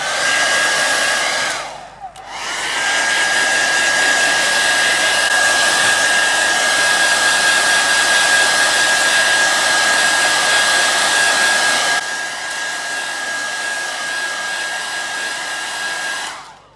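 A hairdryer blowing over freshly applied pewter paint, a loud steady whirring roar with a high whine that briefly dips near the start, drops to a slightly lower setting later, then switches off at the end.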